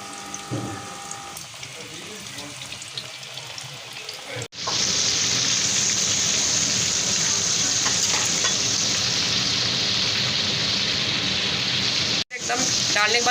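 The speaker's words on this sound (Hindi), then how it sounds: "और अब मैं इसमें मछली डालने लगी हूँ।" Fish fingers drop into hot oil over a medium flame and burst into a loud, steady, hissing sizzle after a few quieter seconds, with a brief break near the end.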